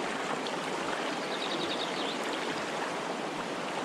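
A mountain river rushing over rocks at a hiking crossing in the Kaimanawa range, a steady dense roar of flowing water, close and constant with no talk.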